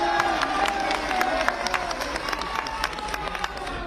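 Crowd at an election rally in Pilibhit, Uttar Pradesh, clapping and cheering in scattered bursts, moderately distant with a general murmur underneath.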